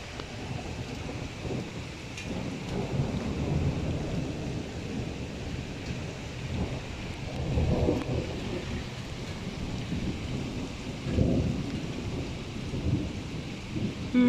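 Heavy night rain in Kuwait with thunder: a constant hiss of downpour with deep rolling rumbles swelling and fading several times, no voices.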